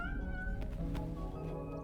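In Death Stranding 2, a cat meows in a drawn-out, wavering cry lasting about two seconds, fairly close and clear over a steady low ambient rumble from the game.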